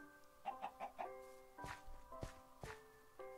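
Minecraft chickens cluck in quick short bursts, a cluster of four clucks followed by several spaced single clucks, faint and close with soft footstep-like taps between them.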